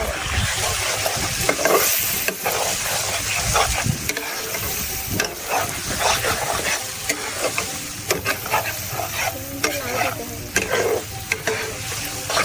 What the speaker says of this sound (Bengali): চিংড়ি মাছটা ভালো করে কষে নেব